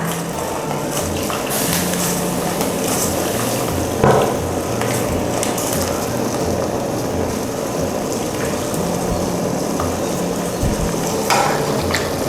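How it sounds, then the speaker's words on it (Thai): Pork bones soaking in freshly boiled water are stirred in a pot, giving a steady watery swishing and bubbling texture with occasional louder knocks and scrapes throughout. "แล้วเราก็คนนะนี่แช่ให้ทั่วแบบนี้ค่ะ"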